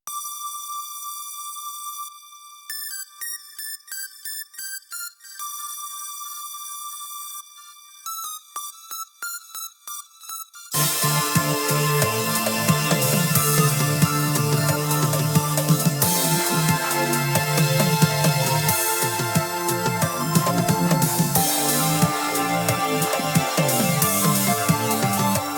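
Synth lead built in the Serum software synthesizer: a thin, bell-like lead plays a sparse melodic line alone, then a full loud mix with drums and dense layered synths enters and carries on steadily to the end.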